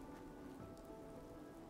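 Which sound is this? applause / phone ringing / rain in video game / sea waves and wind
rain in video game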